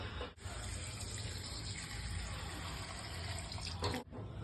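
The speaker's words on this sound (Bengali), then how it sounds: "এখন চাউমিনগুলোর মধ্যে জল দেব" Water gushing steadily from a tap or poured into a pan for chow mein, a continuous close splashing rush lasting a few seconds with brief breaks at the start and end.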